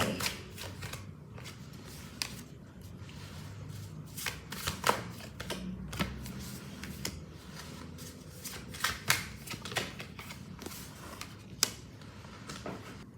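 A deck of tarot cards is shuffled over and over during a reading, giving a steady stream of close, crisp riffling flicks and taps with no talking.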